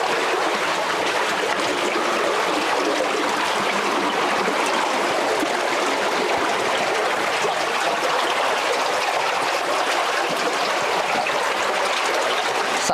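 Strong water current rushing through a rocky tunnel, a dense, constant roar of flowing water, loud and unbroken the whole time.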